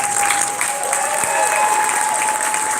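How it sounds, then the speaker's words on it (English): Guests at the Gentlemen's Ball community event applaud, a loud, close wash of clapping with a steady tone humming underneath throughout. "please give ourselves a round of applause"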